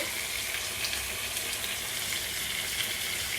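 Ground turmeric and cumin powder frying in oil in a pan, a steady dense hiss of sizzling with faint stirring scrapes, close and even throughout with no talking.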